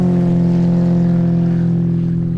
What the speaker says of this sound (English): 315 horsepower, 4-blade prop on this machine, produces the noise